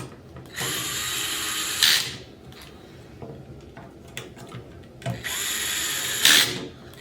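A power drill tightening down screws while building an ARK RIG5, two close, whining bursts of a couple of seconds each, separated by quieter handling clicks.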